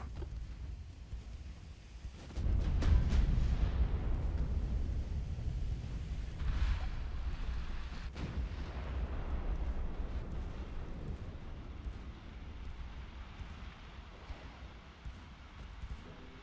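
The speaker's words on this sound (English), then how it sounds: "get our torpedoes launched" Warships launching torpedoes in the naval combat game Ultimate Admiral: Dreadnoughts, with a low boom followed by a long, fading rumble and a few sharp distant bursts, fairly quiet overall.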